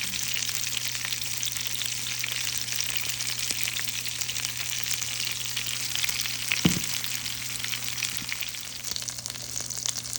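Mushrooms and onions fry beneath green chili burgers in a pan, a steady soft sizzle with a low constant hum underneath and one brief clink partway through, no talk.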